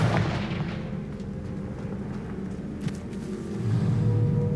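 Deep rumbling blasts and booms from the Confringo blasting spell in Hogwarts Legacy fill the stretch continuously, swelling again toward the end.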